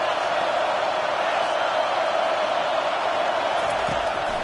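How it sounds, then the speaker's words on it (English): A stadium crowd at an American football game roars in a constant, dense wash of cheering and noise on a third-and-long play, loud and unbroken throughout. "Here comes the crowd trying to make it tough on 3rd and long."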